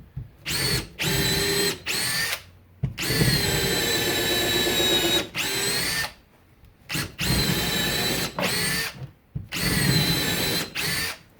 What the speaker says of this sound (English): try some standard drill bits just to show how it does